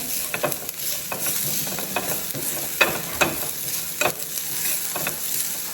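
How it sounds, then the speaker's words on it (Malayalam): Chili powder stirred into a frying mixture for a red-coloured dish, repeated spoon scrapes and knocks against the pan over a continuous sizzle, close and fairly loud, no voices. "നമുക്ക് നല്ലോണം മിക്സ് ചെയ്ത് കൊടുക്കാം"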